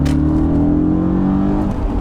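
An Audi RS4 engine revs briefly and loudly close by, a smooth rising and falling drone after its clutch switch fault was fixed.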